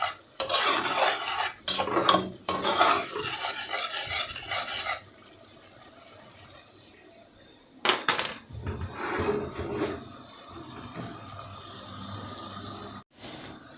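Spice paste stir-fried in a pan with a little water before fish is added, bursts of vigorous clattering stirs and sizzling, then a quieter hissing stretch with further scrapes near the end.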